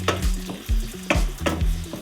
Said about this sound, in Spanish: y se sofría con los pimientos.